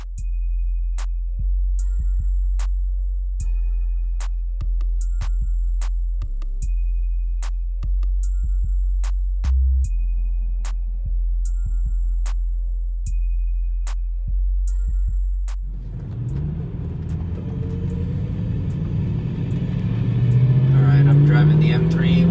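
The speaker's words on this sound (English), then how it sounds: "Driving the M3, warming it up right now. You can definitely feel and hear the difference." A BMW E92 M3 warming up on a drive: a steady, smooth low engine drone and road rumble that rises into a louder, rougher tone toward the end, heard from inside the cabin.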